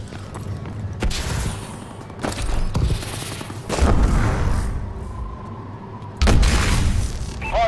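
Grenade explosions on a contested hardpoint in a multiplayer shooter game, with heavy booms and bursts of gunfire going off several times, loud and close.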